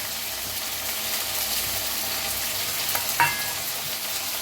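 Cluster beans (gavar) roasting in a pan give a steady, soft sizzle and crackle throughout, with one brief metallic clink near the end.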